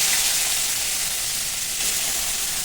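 Prawns fry in a wok with a steady, loud, continuous sizzling hiss, no voices.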